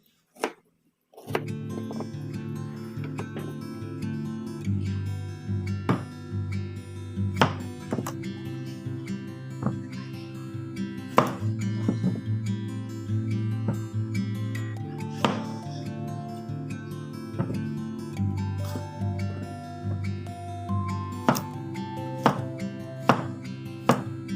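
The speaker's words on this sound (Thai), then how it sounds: "แล้วก็มาหั่น มะกรูดเลยนะคะ ทุกคน" A knife chops kaffir limes into halves and quarters on a cutting board to make a homemade all-purpose cleaner. Sharp, close thunks come in an irregular steady rhythm for over twenty seconds.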